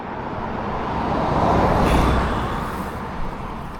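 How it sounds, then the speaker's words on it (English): A car passes on a road near a crabbing spot, a broad rumble that swells to a peak midway and then fades, fairly loud with no voices. "Got another car coming."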